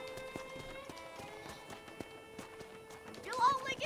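Horse hooves galloping in the Red Dead Redemption video game, a quick, uneven clip-clop beating steadily under music and game sounds, with a brief louder burst near the end.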